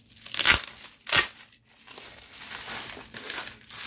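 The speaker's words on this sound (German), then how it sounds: "Wir machen jetzt einmal auf. Schön in Luftpolsterfolie und einen luftgepolsterten Umschlag." Bubble wrap and a padded envelope crinkle and crackle as a parcel of craft stamps and dies is unpacked, with two loud rustling bursts followed by softer, steady handling close by.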